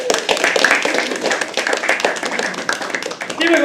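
Open-mic crowd at The Habitat applauds a poet in a sustained wash of dense clapping, steady and fairly loud for the whole stretch, with some cheering mixed in.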